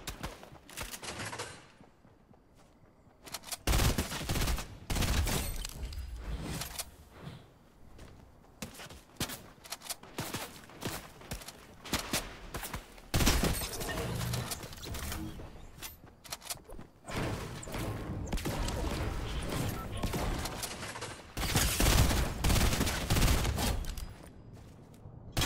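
Video game gunfire rattles in bursts and long volleys of automatic fire, some shots close and loud, others fainter, with short quieter gaps between exchanges.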